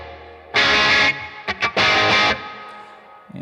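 Electric guitar played through a Bad Cat Black Cat amplifier's second channel with the volume rolled down, giving a mildly driven tone: a sustained chord, a couple of quick stabs, then another held chord fading out, up close and alone.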